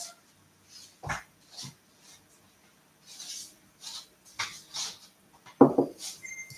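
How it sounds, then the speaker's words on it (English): A dog whimpers and gives soft growling sounds in short separated bursts, fairly close, with a louder yelp near the end in an otherwise quiet room. "I'm just letting the dog out."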